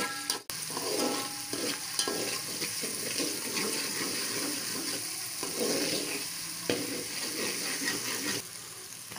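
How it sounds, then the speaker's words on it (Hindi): Garlic-ginger paste fries in hot oil for a chicken korma, a continuous close sizzle broken by occasional stirring scrapes. "अब हमने तेल गरम किया और इसमें लहसुन अदरक का पेस्ट मिला दिया। उसको थोड़ा सा भून लिया।"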